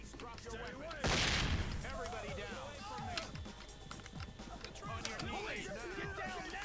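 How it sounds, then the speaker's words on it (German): A flashbang grenade goes off with a sharp, loud blast during a SWAT 4 room clearance, followed by scattered gunfire and the chatter of several voices over a busy background. "Ich werfe einen Flashbang hier rein."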